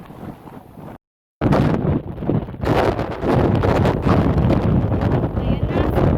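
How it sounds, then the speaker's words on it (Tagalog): Strong wind buffets the microphone on a hilltop at Suicide Cliff in Kowloon, Hong Kong, a dense roaring rumble that drops out briefly near the start, then returns loud and steady with faint voices beneath. "sobrang hangin dito sa taas"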